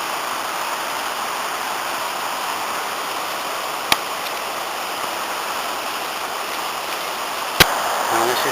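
Rushing water at Fairy Glen, where the River Conwy narrows into a waterfall, keeps up a steady broadband roar throughout, with two sharp clicks breaking through near the end.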